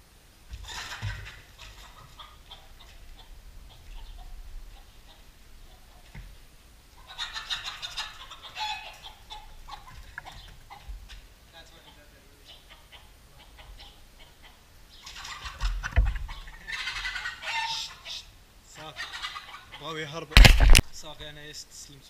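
Chickens on a home property clucking and squawking in scattered bursts, with a sudden loud flurry of wing flapping near the end, under and between people talking.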